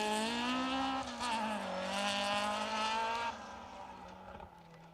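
A Ford Escort rally car on a stage of the Border Counties Rally revs hard, its engine note rising and falling loudly up close, with tyre scrabble as it powers through.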